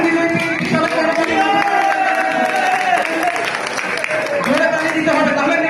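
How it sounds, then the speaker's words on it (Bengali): An audience applauds a first-place winner at a prize draw, with a steady wash of clapping and crowd noise under a talking voice and background music. "তাহলে আমরা আমাদের প্রথম বিজয়কে বিশাল করতালি"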